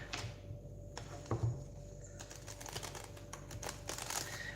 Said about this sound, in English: Let's give these cards a bit of a shuffle.